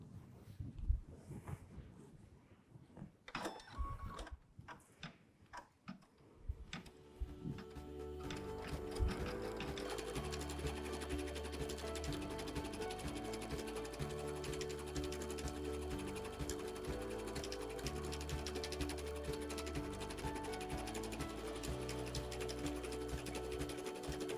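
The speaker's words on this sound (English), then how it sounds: "when I hit go, it's going to give me a placement stitch so I know just where to place him on my project" An embroidery machine stitches a placement outline on a hooped project, starting with a few handling clicks before the needle settles into a steady, loud, continuous rapid stitching rhythm that runs uninterrupted to the end.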